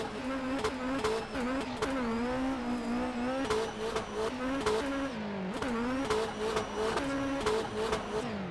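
Simulated Nissan S15 drift car in the rFactor 2 racing game, engine droning and revving up and down continuously with high-pitched whine and tire squeal, steady and close throughout.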